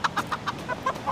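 A rooster in a VR rooster fighting game clucks about seven times in a quick even series of short, sharp, close notes.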